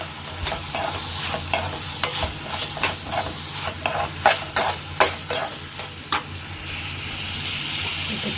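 Ketchup being stirred into a frying pan of homemade noodles: scraping spatula strokes and soft sizzling, ending in a steady frying hiss, with no voices.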